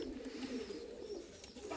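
Turtle doves coo softly and low, a faint rolling murmur of calls against a quiet background, close but gentle, with no talking.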